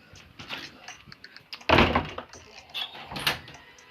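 A door closes in the video game Papa's Freezeria, with a heavy thunk in the middle, lighter clicks and rattles around it and a second softer knock later, all over a busy background.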